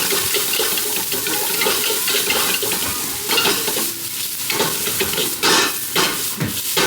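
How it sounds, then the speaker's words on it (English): Meat and vegetables for yakisoba stir-fry in a wok, a close, continuous sizzle broken by scraping and tossing of the ingredients, with no talking. "I'm gonna cook all the meat and vegetables first, and then the noodles afterwards."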